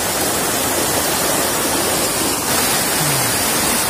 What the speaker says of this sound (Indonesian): mungkin kita udah di air terjun yang pincuran yang pertama